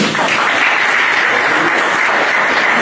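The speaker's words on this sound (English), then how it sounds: "Give yourselves a round of applause." A crowd at the Power Memorial 2022 reunion bursts into steady, dense applause that fills the room at full volume and holds evenly for a few seconds without letting up.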